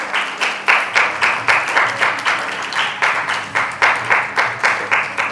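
An audience at a Mother's Day event claps for the Bangalore team in a steady rhythmic unison beat, each clap loud and evenly spaced, with no one speaking.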